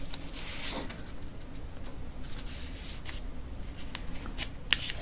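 Paper being folded by hand to make a small notebook, a soft continuous rustle and scrape with a steady hiss and a sharper crinkle near the end, close and fairly quiet.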